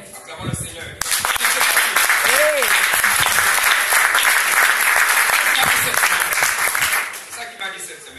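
Church congregation at a French-language worship service applauding loudly and continuously for several seconds, with a brief voice rising over the clapping before it fades out.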